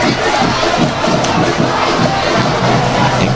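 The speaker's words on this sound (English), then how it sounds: "the crowd is on its feet." A high school football crowd at Cheltenham High School roars in a steady, loud, continuous wall of cheering and shouting as players rush the field after a victory.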